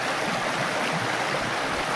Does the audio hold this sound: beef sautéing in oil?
no